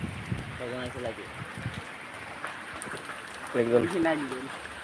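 Heavy rain falling outdoors as a steady, close, broadband hiss, with a voice talking briefly over it.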